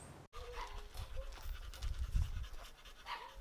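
A dog pants steadily in quick, close breathy puffs, with faint background noise.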